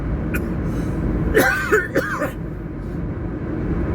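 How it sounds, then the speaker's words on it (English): A single cough, or a throat clearing, from a taxi driver inside the car, brief and close, over the steady low rumble of the vehicle. "That was my first cough of the night."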